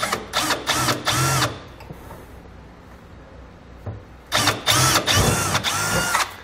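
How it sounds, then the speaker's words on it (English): A power drill fitted with a 1/8 inch bit bores a pilot hole through a steel fifth wheel mounting bracket on a Ram truck, in two loud close bursts of whining spin separated by a quiet pause. "we're gonna be taking an 1/8 inch drill bit. We're gonna be drilling a pilot hole"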